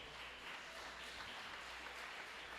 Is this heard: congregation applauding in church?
yes